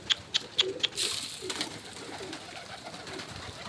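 A few soft, close domestic pigeon coos, then rustling and fluttering noise with the birds murmuring quietly, in Basra, Iraq.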